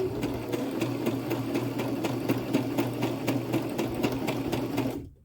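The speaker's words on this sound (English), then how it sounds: "And then when you get to the end, you can back stitch, and then take out your pins as you go." A sewing machine stitches fabric for a beginner's bracelet, running steadily at an even, rapid mechanical rhythm, close and fairly loud, then stopping abruptly near the end.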